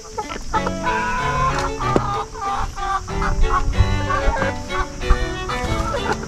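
Several chickens, including large hens, cluck and chatter continuously at close range in a busy, overlapping stream of calls.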